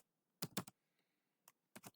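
Keys clacking on a computer keyboard while C code is entered, two short bursts of three and then two keystrokes with a single tap between, close and crisp without talking.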